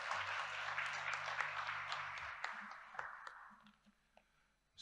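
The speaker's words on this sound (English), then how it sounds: "Let's give him a louder round of applause." A conference audience at a keynote address applauds for a Malaysian minister, a broad wash of clapping that tapers off, mixed with faint hall hum and light voices.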